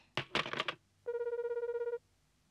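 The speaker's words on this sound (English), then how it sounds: "Be careful to dial the correct number." A cartoon telephone is dialed with a quick burst of clicks, then a short electronic ring sounds as a rapid, even warble before cutting off, clear and alone.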